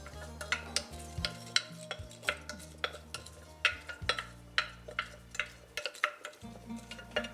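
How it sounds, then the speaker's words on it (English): Washed, soaked rice being stirred in vegetable oil in a cooking pot: a spoon scrapes and knocks against the pot in a steady rhythm of sharp clicks, close and fairly quiet, over a low background hum. "I'll give it a quick stir. Make sure all the grains are coated with oil."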